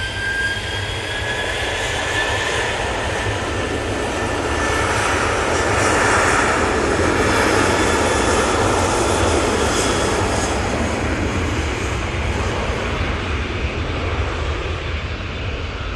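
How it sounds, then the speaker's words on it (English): An EasyJet Airbus A321neo jet taxis at Manchester Airport, its loud steady turbine roar and whine swelling slightly midway, with no talking. "One of EasyJet's A321 Neos is now making its way down to the naughty step."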